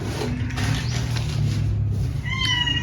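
A cat meows near the microphone in a home kitchen while a meal is being prepared, with steady background noise and a few rising tonal calls near the end.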